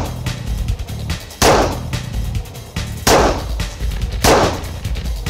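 A 1970 series Colt Combat Commander pistol fires several sharp, loud, evenly spaced shots at close range, each cracking out and ringing briefly.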